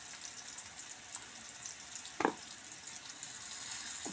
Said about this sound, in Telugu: ఇవి కొంచెం ఫ్రై అయిన తర్వాత అల్లం వేసుకుందాం.